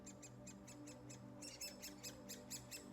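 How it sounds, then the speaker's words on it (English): Great spotted woodpecker chicks call from inside a nest in a rapid series of high, repeated chirps, faint at first and then louder and more insistent as the calls grow denser. "you can hear the chicks calling"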